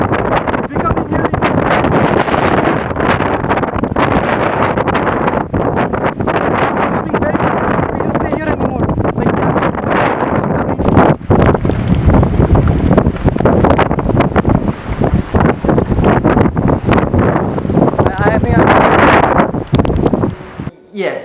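Super Cyclone Amphan's strong wind, reaching about 150 km/h, roars continuously and loudly across the microphone, with gusts that swell and buffet throughout and no voices.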